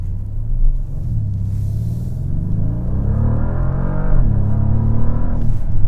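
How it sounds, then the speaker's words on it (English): A Bentley Flying Spur Speed with 771 horsepower idles steadily with a deep, loud, close rumble, swelling slightly toward the end. "the car's engine's on."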